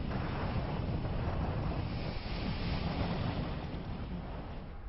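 Water pours through 14 opened gates of the Mohanpura dam in a broad, steady roar, loud and unbroken with no voices.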